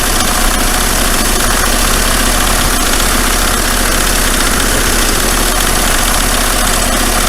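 A diesel engine undergoing injector cleaning runs loudly and up close, a dense, continuous mechanical drone with a rough vibrating edge that holds at an even level throughout.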